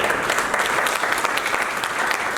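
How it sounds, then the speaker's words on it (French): Guests at an official wedding ceremony applaud, a dense, steady patter of many hands clapping at close range throughout, with no voices above it. "Applaudissez pour lui, s'il vous plaît."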